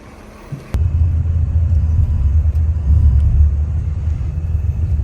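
A pilgrims' car in Madinah starts up and pulls away with a sudden loud engine rumble that holds steady and close, with no talking.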